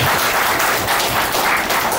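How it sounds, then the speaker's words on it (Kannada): Applause from an audience at a Kannada film release event, a steady dense patter of clapping lasting the whole moment with no voices. "ಬರ್ಲಿ ಒಂದು ನಾವು ಚಪ್ಪಾಳೆ,"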